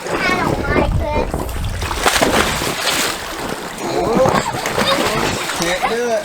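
Water splashing and sloshing in backyard floodwater as children try to surf, with a steady run of splashes and children talking and calling out over them.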